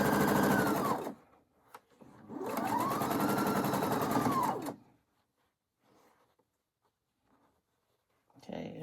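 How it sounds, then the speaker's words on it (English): A sewing machine stitches pieces of a nine patch quilt block in two steady bursts, about one second and then about two seconds long, with quiet handling in between and a brief start of more stitching at the end. "can take it to my sewing machine and stitch those"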